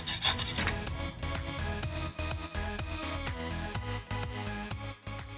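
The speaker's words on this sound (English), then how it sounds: "I just chopped through the shaft with a hacksaw" A hacksaw cuts through the seized steel shaft of a motorbike shock absorber in quick, regular rasping back-and-forth strokes, fairly close and alone.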